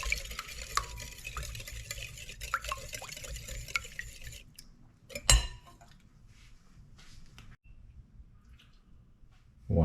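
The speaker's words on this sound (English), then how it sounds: "we just would beat this," Evaporated milk mixed with sugar gets whisked in a bowl for bread dough, a steady scraping and stirring for about four seconds, then quieter with one sharp clink against the bowl and a knock at the end.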